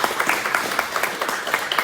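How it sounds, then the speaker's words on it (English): An audience at a Wednesday night ceilidh applauds the residents, a lively, even patter of many hands clapping with some individual claps standing out. "Round of applause for the folks here"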